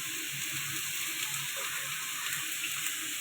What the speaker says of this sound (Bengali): এবার ফোড়ন দিয়ে দেবো।